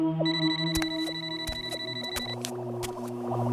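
A phone ringtone plays as a sustained electronic melody of bright repeating tones over a background music bed, clear and continuous.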